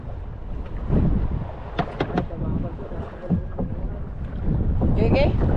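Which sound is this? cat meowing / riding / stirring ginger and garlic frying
riding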